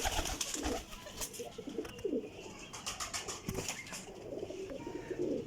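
Champion parwazi pigeons cooing in a loft, soft repeated coos mixed with rustling and flapping, close by with a busy ambient background and no talk.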